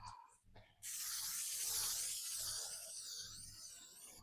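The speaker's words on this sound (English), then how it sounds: "I'm gonna spray my counter in non-stick cooking spray" After a brief rustle, non-stick cooking spray hisses close up onto a kitchen counter for about three seconds, fairly quiet and steady.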